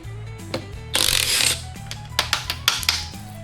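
Ratchet wrench loosening a 15 mm nut on a Ram 1500 pickup's front strut, a burst of rapid clicking followed by several sharp, close ratcheting bursts and clanks in a garage.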